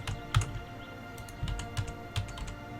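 Computer keyboard keys pressed during a PC strategy game session, a handful of sparse, quiet clicks and taps spaced irregularly over a faint background hum.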